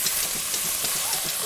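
Ground beef browning in a pan for a farm-table lunch gives a steady, close hiss and sizzle with soft scraping pulses from stirring.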